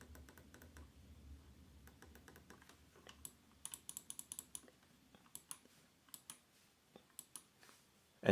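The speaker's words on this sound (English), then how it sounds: "let's click away as well, once again, with my hand positioned on the mouse" Buttons on a Blade Hawks GM-X5 gaming mouse click in quick, uneven runs, sharp and close-miked in an otherwise quiet room, with a few faint rustles of handling before the clicking starts.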